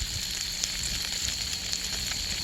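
Pork sizzles as it roasts on a marble grill plate, a steady dense crackle of fat and juices that stays even and close throughout.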